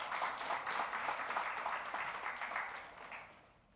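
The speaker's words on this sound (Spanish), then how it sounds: "¿Por qué no damos un aplauso fuerte a todos los líderes que abren sus casas?" Church congregation giving a loud round of applause for its leaders, who open their homes. The clapping is dense and blended, moderately loud, and slowly fades over several seconds, with no voices over it.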